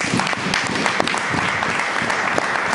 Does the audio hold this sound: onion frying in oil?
no